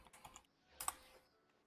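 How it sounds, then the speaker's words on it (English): Keystrokes on a computer keyboard during a video game, a few quick clicks early on and then a denser burst partway through, close and fairly quiet with no voice. "Kind of suck at typing."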